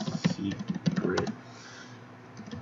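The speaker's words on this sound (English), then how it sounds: "My typing is terrible." Keys on a computer keyboard are tapped in a quick, irregular burst of clicks up close, then the typing tapers off into quiet.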